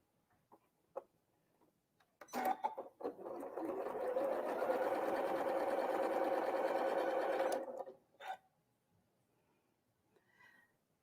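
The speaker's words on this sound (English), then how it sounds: "I'm going to sew these together." A sewing machine stitches fabric triangles together in one continuous whirring run of about five seconds, bracketed by a few soft clicks and handling taps before and after.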